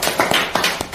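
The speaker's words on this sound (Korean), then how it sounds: "박수로 한번 부탁드리겠습니다." A few sharp hand claps from an audience at the close of a seminar, loud and close, scattered irregularly over a brief moment rather than forming sustained applause.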